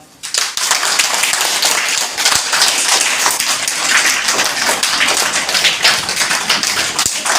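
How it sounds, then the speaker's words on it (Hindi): Children at a primary school clapping their hands together, a dense, loud, steady burst of many small palms slapping at once that continues throughout without a break, with no talking over it. "अब सब ताली बजाओ।"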